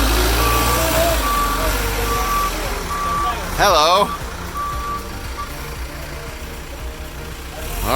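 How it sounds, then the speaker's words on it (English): A tractor trailer truck pulls out with a steady engine rumble beneath a regular series of reversing beeps, and a voice speaks briefly partway through. "Alright, we're pulling the truck out. Truck is leaving."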